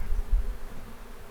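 Honeybees hum in a low, close, continuous drone during a barehanded hive installation at Stone Beach Farm, a short steady buzz with no talking.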